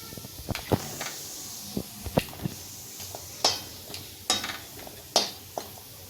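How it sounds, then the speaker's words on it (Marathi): Turmeric root frying in oil while making homemade goda masala, a low sizzle broken by scattered sharp clicks and scrapes of a spoon in the pan, close and fairly quiet. "आता मी तेलावर हळकुंड घेते तळून."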